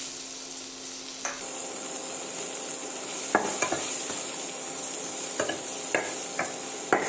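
Onion frying in a pan for Maharashtrian takatali bhendi, with asafoetida already in the oil: a steady close sizzle broken by several sharp scrapes and clinks of stirring, no voices.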